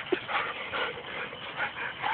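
A tired husky whimpering after racing at night, soft high whines repeating at a low level throughout, close to the microphone with no talk.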